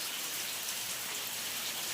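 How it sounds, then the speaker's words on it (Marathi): Light drizzling rain falls steadily on surfaces outdoors in the morning, a soft continuous hiss with faint pattering drops and no voices. "सकाळच छान पाऊस पडतोय रिमझी रिमझी"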